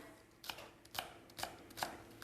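A knife slices green onions thin on a cutting board, giving soft, quiet taps that repeat roughly every half second with a light crunch at each cut.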